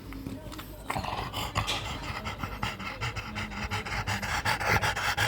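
Dogs panting rapidly and steadily close by for the whole stretch, a continuous rhythmic breathy huffing with some shuffling and light movement noises mixed in, no talking.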